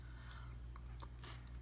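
Someone chewing a mouthful of homemade salsa, a few soft crunchy bites, close but faint over a steady low hum, with no talk.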